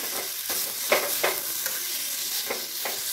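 Boiled potatoes fry in a hot kadai with a steady sizzle, broken by a few soft stirring scrapes close by.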